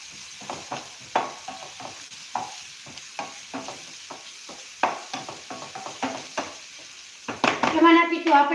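Finely chopped onion sizzles in hot oil for homemade momos while a spoon scrapes and stirs it in repeated close clacks, ending in a louder burst of frying.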